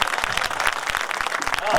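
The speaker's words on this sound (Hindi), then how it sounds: "एक ताली बजी" A seated audience at a kavi sammelan poetry gathering in Pandhurna, Madhya Pradesh, breaks into a short burst of clapping, dense and fairly close, lasting under two seconds.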